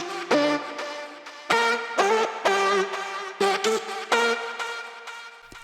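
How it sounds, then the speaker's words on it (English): Pitched vocal chops in the breakdown of an electronic track, layered with a lower-pitched copy, stuttering in short clipped syllables and sustained tones in a choppy rhythm, upfront and without any talking. "We added vocal chops to the breakdown."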